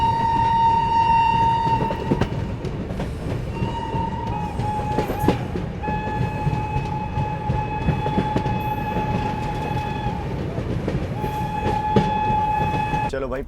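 The Bihar Sampark Kranti Express rolls along steadily with a loud continuous rumble and rattle of carriages, while a long horn sounds repeatedly in sustained blasts throughout.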